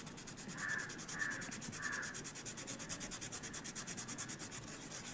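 Something rubbed back and forth on a stone moistened with rose water, a rhythmic close scraping and grinding with regular strokes, quiet and without speech.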